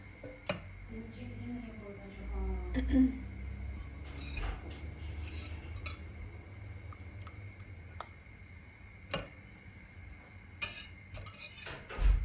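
A spoon scrapes and clinks against a pot while flour and cornstarch are stirred into melted fat for a roux: scattered light metallic taps and soft squishy scraping, close and quiet, with a brief voice in between.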